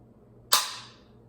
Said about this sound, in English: So now it's on fire.